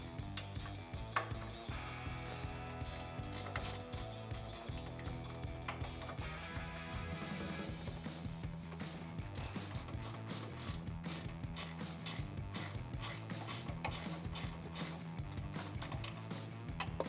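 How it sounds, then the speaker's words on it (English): Ratcheting wrench loosening 14 mm strut nuts on a 2007-2020 Toyota Tundra during a suspension lift install, a steady run of quick ratchet clicks heard close up over continuous background music. "We're gonna use a combination of a good old ratcheting wrench here and the electric socket to get these out of the way."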